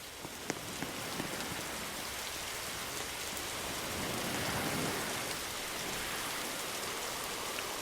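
Steady rain falls and patters densely on surfaces, a continuous hiss with scattered close drops and no voices.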